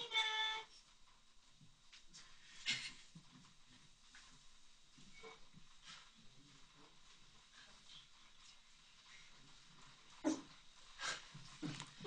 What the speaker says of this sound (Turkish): Sevimli bir köpek ninja eğitimi almış.